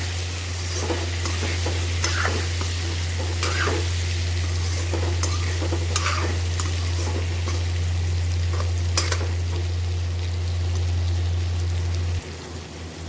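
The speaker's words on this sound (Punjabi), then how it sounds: "ਆਪਾਂ ਇਸ ਨੂੰ ਇੱਕ ਵਾਰੀ ਫੇਰ ਤੋਂ ਚਲਾਵਾਂਗੇ" Stuffed tinde, round gourds, being stirred in a pan as the curry cooks, with a steady low sizzle and frying hiss throughout and periodic scraping strokes; the steady hum drops away near the end.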